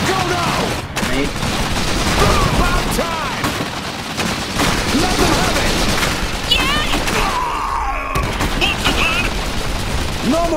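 Gunfire and explosions in an Iron Harvest real-time strategy battle, with dense, continuous bursts of shooting and booms that stay loud throughout, mixed with game voices calling out over the fighting.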